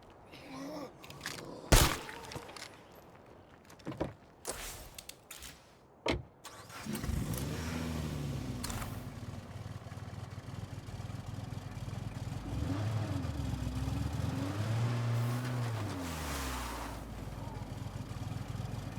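A vehicle in State of Decay 2 that burns through gas quickly starts up after a few door and handling clunks, then drives with a steady engine drone that rises and falls as it accelerates and shifts.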